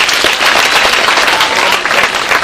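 A congregation at a thanksgiving Mass at Loreto Nyakato gives loud, close applause to God for the year's Form 4 results. Dense clapping runs throughout, with individual claps standing out.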